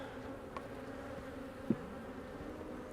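Soft, steady buzzing from many honey bees at a nucleus hive, a low continuous drone with a couple of brief louder passes close by.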